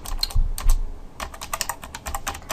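Keys on a computer keyboard clatter in quick irregular bursts of clicks, close and clear, with short pauses between runs as text is entered.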